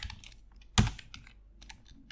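Code being typed on a computer keyboard, quiet rapid key clicks close by with one heavier thump partway through, and no talking.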